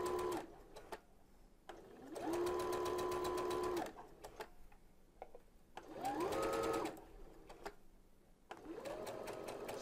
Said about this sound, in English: you're attaching and gathering at the same time